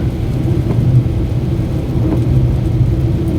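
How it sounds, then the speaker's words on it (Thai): Dense, steady roar of heavy rain with gusting wind, loud and close, with no voices. "มีน้องน้ำฝนเขาตกมากับพี่ลมพายุ"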